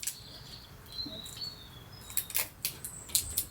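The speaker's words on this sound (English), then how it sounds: "the only noise in the background is the birds." Birds chirp faintly in short, scattered bursts outdoors, with soft background hiss and nothing else prominent.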